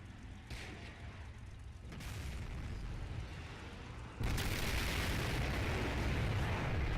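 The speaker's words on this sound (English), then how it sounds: "So I think the Sturmtiger is ready to fire." A Sturmtiger fires a rocket in the game Men of War: Assault Squad 2, a deep rumbling blast that swells and then holds as a loud, sustained roar of destruction.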